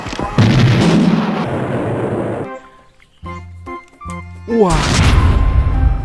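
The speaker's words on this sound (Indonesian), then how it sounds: "ada yang bentuknya kecil tapi bersuara besar. Ini dia granat." A grenade explosion sound effect from a toy-like weapon sound set, a loud booming blast with a long rumbling tail followed by short electronic tones and another heavy blast, with a brief spoken exclamation.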